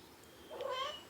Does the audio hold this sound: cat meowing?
yes